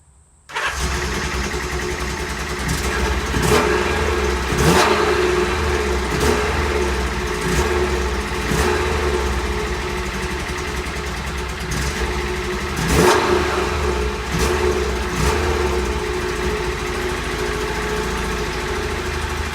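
A small carburetted Honda S600 car engine runs steadily for the whole stretch, with a rough idle and a few uneven revs rising and falling, close and fairly loud.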